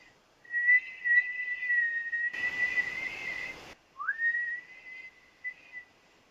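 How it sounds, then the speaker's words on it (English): Whistling that controls Yondu's arrow in Guardians of the Galaxy Vol. 3: a clear, sustained high whistle broken by a short burst of noise, then resuming with a rising swoop and trailing off into softer notes. "Kraglin was able to use Yondu's arrow, and he does it by using the heart while whistling."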